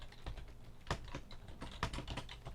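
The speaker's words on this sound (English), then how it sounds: "I'm going to just start typing in" Quiet, close typing on a computer keyboard: irregular quick key taps with a couple of heavier strokes, steady and uninterrupted, with no talking.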